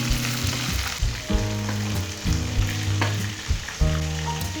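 Mutton pieces fry in a pan for a hearty potato-and-meat dish, giving a loud, close, continuous sizzle with bursts of crackling and repeated stirring scrapes, no voices.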